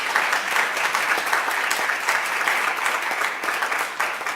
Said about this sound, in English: I want to give these kids a tremendous round of applause.